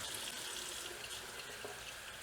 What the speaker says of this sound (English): So I run it under water while I just rub the knife over it.